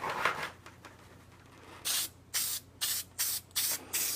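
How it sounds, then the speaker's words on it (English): 3M General Purpose 45 spray adhesive hisses from an aerosol can as it coats the back of a piece: six short, even bursts in a quick regular rhythm after a few faint handling noises. "I'm just going to coat the back with some 3M General Purpose 45 spray adhesive"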